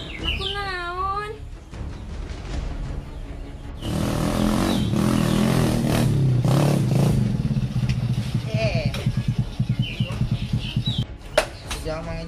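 A motorcycle engine idles, then revs and putters near at hand, its rhythmic chugging running for several seconds while people talk and birds chirp around it.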